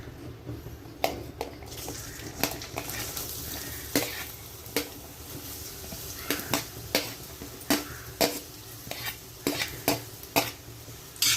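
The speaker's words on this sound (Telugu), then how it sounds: "ఇది హీట్ ఎక్కిన తర్వాత ఇప్పుడు మనం ఉల్లిపాయలు వేసుకొని వేయించుకుందాం." Onions frying in oil in an iron kadai for a carrot and green peas curry, with a spoon scraping and clinking at a steady, repeated rhythm over a soft, continuous sizzle, close by and without any talk.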